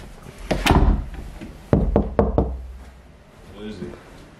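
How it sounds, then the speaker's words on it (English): Several sharp knocks on a house door: a loud burst of raps, then a pause and three or four distinct knocks close by, with a voice talking before and a faint reply afterward. "knock on it"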